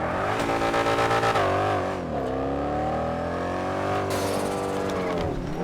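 Mercedes C63 AMG engine in GTA 5, revving hard and rising, then dropping to a lower idle-like rumble before climbing again, loud and close with no talking.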